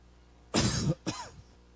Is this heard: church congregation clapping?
no